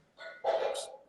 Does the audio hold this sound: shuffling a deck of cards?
no